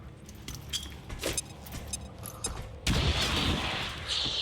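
A grenade explodes in the video game XCOM 2, a sudden loud blast breaking in partway through after scattered clicks and shots, followed by a sustained rumbling roar.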